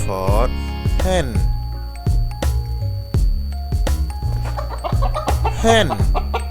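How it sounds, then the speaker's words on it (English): Hen clucking in an alphabet song, a run of short, close clucks and cackles over steady background music. "H for hen."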